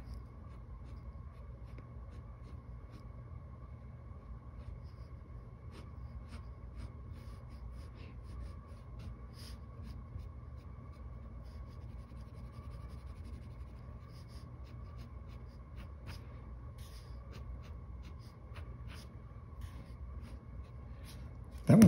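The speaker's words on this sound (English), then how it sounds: "Okay, let's draw it in for real." A pencil drawing a comic face on paper, a soft continuous scratching with short strokes and taps, close and quiet over low room noise, ending in a brief louder bump.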